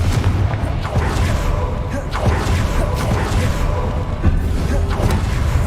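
Confringo fire-blast spells in Hogwarts Legacy erupt as repeated booming bursts over a dense, continuous wash of game battle noise, with several sharper impacts spaced through the stretch.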